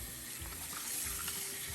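Running water from a tap rinses a human hair wig, a steady soft splashing flow that sounds faint and continuous, with no voices.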